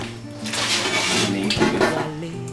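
Meat is washed by hand in a kitchen, with water splashing against a dish and clinking of pots and utensils close by in a busy, uneven run of sounds.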